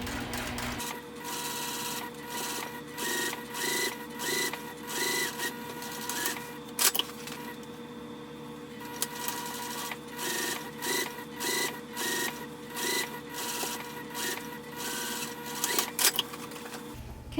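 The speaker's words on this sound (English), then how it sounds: "So I am just going to finger press and sew 1/8 of an inch away" A sewing machine stitches a seam 1/8 inch from the edge on a hobo bag, running in repeated rapid mechanical bursts with short pauses between runs, close and steady.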